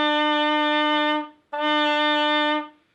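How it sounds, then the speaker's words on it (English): A trumpet sounded with its bell removed gives two sustained, buzzy, dull notes, each about a second long and separated by a brief gap, played alone with no voices. "If you had a trumpet with no bell, it might sound like this."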